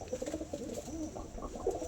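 Madras pigeons coo softly at close range, a few low burbling, rolling calls rising and falling over faint background noise, with no speech.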